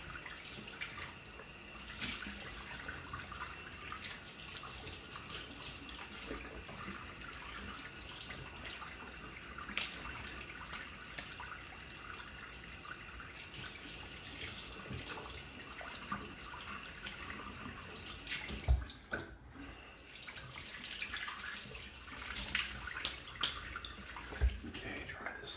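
A bathroom sink tap runs warm water during a face rinse after a shave, giving a soft, steady trickle and splash close by with occasional louder knocks and splashes.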